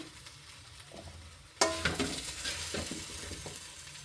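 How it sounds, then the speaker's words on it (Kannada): Garlic and cumin hitting hot oil in a pan: a quiet start, then a sudden loud sizzle that keeps crackling and spitting, with stirring scrapes, close and without speech. "ನಾನು ಮೊದಲಿಗೆ ಬೆಳ್ಳುಳ್ಳಿ ಮತ್ತು ಜೀರಿಗೆನ ಸ್ವಲ್ಪ ಎಣ್ಣೆಯಲ್ಲಿ"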